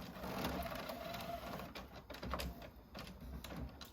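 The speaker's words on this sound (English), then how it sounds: "you're wasting ink in such a fashion that you get a clean printer head" An inkjet printer runs a print head cleaning cycle, giving a faint, steady mechanical whir with repeated clicks and brief shuffling movements throughout.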